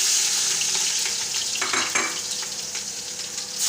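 Onions sizzle loudly in hot oil for matar pulao, a steady, bright frying hiss with a few stirring scrapes partway through and no talking.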